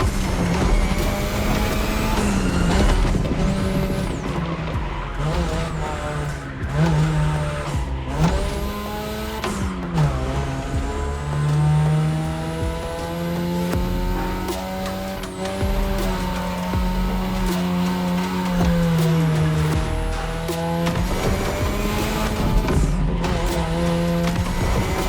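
A race car in The Crew Motorfest powers along a winding Japanese mountain road, its engine climbing and dropping through gear shifts for a long stretch, with tires squealing through repeated corners.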